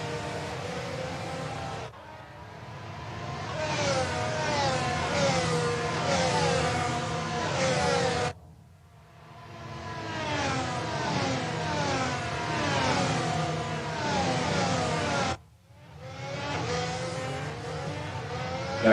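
Race cars roar past at Monza in a racing video game, engines revving and rising through gears in three long waves of loud, layered engine noise separated by brief gear-change dips, with no talk.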